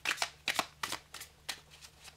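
Small Lily White Tarot cards are shuffled by hand, giving a string of crisp riffling bursts about every third of a second, close and fairly quiet, with no talk.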